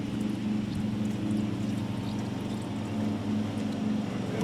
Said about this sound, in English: I hear a lawnmower coming this direction